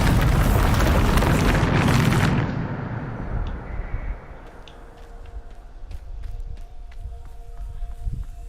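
A Bombarda spell explosion in a video game: a loud, broad blast roars for about two seconds, then decays into a low rumble with scattered small crackles and clicks trailing away.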